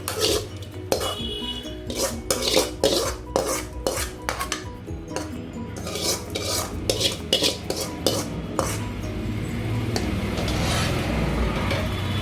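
Black kavuni rice paniyaram batter being mixed by hand in a bowl: a quick series of close metallic clinks and taps of a spoon against the vessel, then a steadier, continuous scraping stir, no talking.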